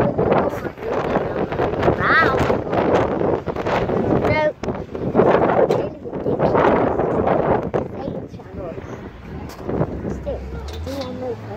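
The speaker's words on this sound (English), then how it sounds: "I don't know if you can hear, but the wind is blowing." Wind buffets an outdoor microphone in loud, rough gusts that rise and fall, largely drowning out a person talking over it.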